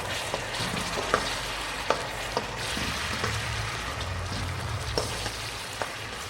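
Onions and tomatoes frying in a pan for chicken liver (kaleji) gravy, a steady close sizzle with a few sharp clicks of a spoon stirring, no talk.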